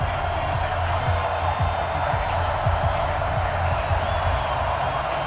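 A Madden NFL 20 stadium crowd at a Tennessee Titans versus Baltimore Ravens game keeps up a loud, continuous roar and cheer, with a commentator talking over it.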